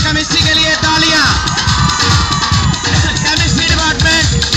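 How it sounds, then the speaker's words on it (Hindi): At a college sports day march past, a big crowd cheers with loud whoops and shouted voices, plus dense background noise that may include clapping, all sustained close by. "डिपार्टमेंट ऑफ केमिस्ट्री के लिए तालियां।"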